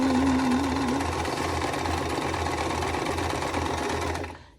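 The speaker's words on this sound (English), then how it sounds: "We're going to sew a snowball in the opposite corner now of all of these blocks." A sewing machine stitches across the corner of a quilt block, a loud, close, steady mechanical whir with a fast even rhythm that runs throughout and then cuts off.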